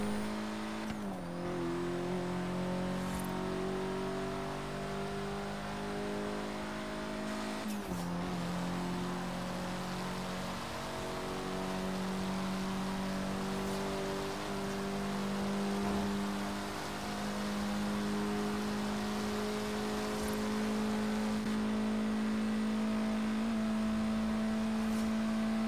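Ford Focus RS engine cruising in a driving game, a steady droning hum with shifting harmonic tones and one brief dip, with no talk over it.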